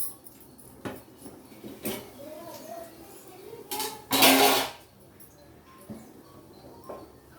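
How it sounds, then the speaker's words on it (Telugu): Rice for bagara rice tipped into a cooking pot, a short loud rushing pour of grains lasting under a second, with scattered clinks of utensils and someone talking around it. "ఇప్పుడు ఫ్రెండ్స్ బియ్యం అయితే మనం వేసుకుందాము"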